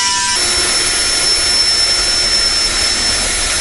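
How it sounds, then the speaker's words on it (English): A power drill bores holes for a widebody kit on a Ford Mustang GT 5.0 RTR, a loud, steady high-pitched whine that runs continuously without a break. "right now I'll just drill all the holes out."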